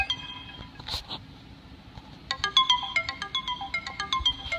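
The Helium alarm tone on a Kindle Fire, a bright sequence of rapid chiming electronic notes stepping up and down in a quick melodic pattern, preceded by a soft tap and brief noise, played close and clear.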